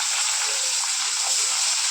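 Onions with fenugreek, mustard seeds and curry leaves sautéing in a pan for a Tamil dried-fish dish, a steady close hiss and sizzle with no pauses.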